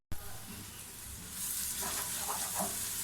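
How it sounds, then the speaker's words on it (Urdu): Garlic hits a pan of golden frying onions with a steady, crackling sizzle that grows a little louder and busier partway through, with soft stirring sounds. "اب میں اس میں لہسن ڈال دوں."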